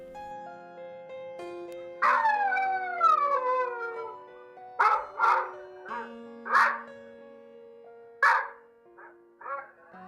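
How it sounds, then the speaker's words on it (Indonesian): Dogs barking and howling close by in front of a house at night, with a drawn-out wavering howl followed by several sharp barks in an irregular sequence, loud and alone. "Tiba-tiba saja Saminah dikejutkan oleh gonggongan anjing tak jauh dari depan rumahnya."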